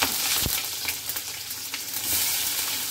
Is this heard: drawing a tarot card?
no